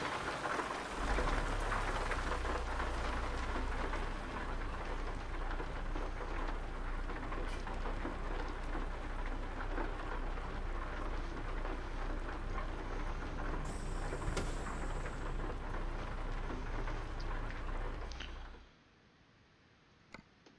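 Heavy rain pours down around a log truck in the early morning, a dense, loud, continuous hiss with low rumbling underneath that runs for most of the stretch, then cuts off abruptly near the end, leaving near silence and a faint click.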